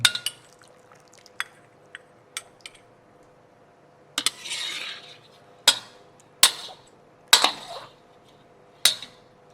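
A spatula scrapes and clinks against a pan as stir-fried broccoli with salted egg is lifted out. Sharp metallic taps come at irregular intervals with short scraping bursts in between, close and fairly clear, with no talking.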